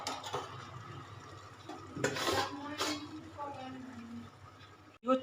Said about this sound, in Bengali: এঁচোড়টা দিয়ে দেওয়ার পর এটাকে একটুখানি নাড়াচাড়া করতে হবে